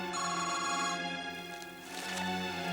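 An old telephone rings indoors on a classic Indian TV series, repeated bell-like trills sounding clearly and close for a few seconds, with no talk over them.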